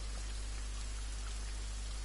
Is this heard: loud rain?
yes